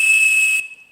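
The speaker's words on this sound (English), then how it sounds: "That's 2600 hertz tone." A handheld whistle blows a steady, loud 2600 hertz tone, the pure pitch once used to seize long distance phone lines, sounding alone with a breathy hiss that cuts off after about half a second while the tone fades briefly.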